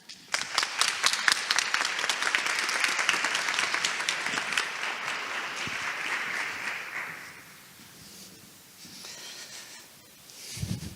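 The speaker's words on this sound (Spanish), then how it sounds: "Un muy fuerte aplauso," A large audience at a TEDxUTN 2022 talk breaks into loud, dense clapping that holds steady for about seven seconds, then thins out and fades to scattered claps.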